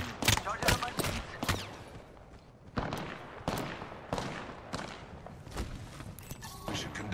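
Repeated gunfire bursts in the battle royale shooter Apex Legends, sharp volleys of shots and thuds spread across the stretch with brief gaps, loud and close, with game voice lines and speech mixed in.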